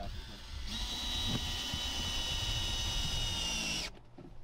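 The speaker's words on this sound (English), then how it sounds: "I need the drill." A power drill whines steadily at high pitch for a few seconds during a wooden boat bow repair, close and loud, then abruptly stops.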